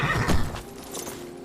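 A horse in the video game Skyrim, played on PS5, gives a short neigh and whinny with faint hoof clops, loudest at the start and fading quickly, with no talking.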